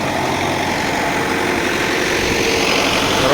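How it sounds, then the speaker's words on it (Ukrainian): A 4 kW generator engine runs nearby with a constant, loud, even drone and no break in its sound. "4 кВт генератор"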